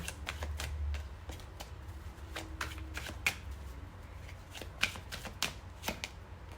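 Tarot deck shuffled and cards drawn, a run of crisp snapping slaps and papery flicks at uneven intervals over a low steady hum, close and fairly quiet with no talking.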